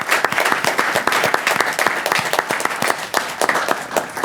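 Loud, close applause from the crowd at a city council meeting honoring an Olympic gold medalist, continuous dense clapping with sharp individual claps throughout.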